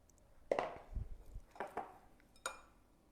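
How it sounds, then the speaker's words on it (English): Sticky date pudding batter scraped into tins: faint spatula scrapes and light clinks against metal, a few soft knocks, spaced irregularly in a quiet kitchen. "And now I'm going to scrape it in and I'm going to divide the mix into 2"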